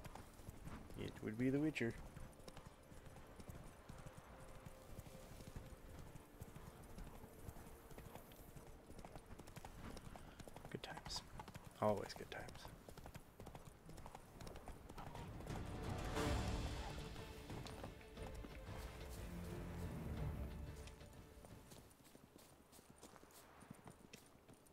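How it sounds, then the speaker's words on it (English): Horse hooves clip-clopping in the video game Witcher 3 as a rider passes among the group, rhythmic hoofbeats swelling and fading under ongoing conversation from players talking. "That guy just rode his horse between all of us."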